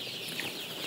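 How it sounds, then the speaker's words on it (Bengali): A young Sonali chicken, about 17 days old, gives a brief, high, chirpy bird-like call that is faint and sits over a soft background hiss. "এই যে একটা মুরগি আমার কি সুন্দর করে পাখির মতো ডাকতেছে"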